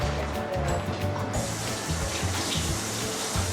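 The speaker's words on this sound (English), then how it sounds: "Wash your hands." Tap water runs steadily into a kitchen sink while hands are washed underneath it before cooking chicken quesadillas, a continuous close splashing with no talk.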